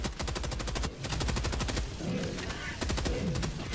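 Rapid automatic gunfire in the video game Helldivers, dense loud bursts of evenly spaced shots with a brief gap near the start and a rougher, noisier patch midway before the firing picks back up.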